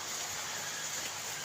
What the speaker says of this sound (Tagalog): Grabe ngayon ang ulan, ang lakas ng ulan dito sa amin.